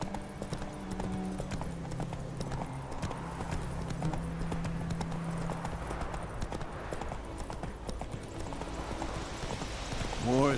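Horse hooves gallop in The Witcher 3 video game, a steady, rapid clip-clop rhythm that continues throughout at close range over low ambient game sound.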